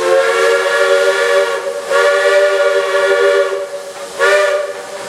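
Loud steam train whistle sounds in long, sustained blasts, each held for over a second with brief gaps between, over a hissing steam background, at Disney's Magic Kingdom, signalling an approaching switch.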